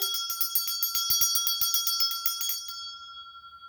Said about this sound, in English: wake him up with a little ring of a bell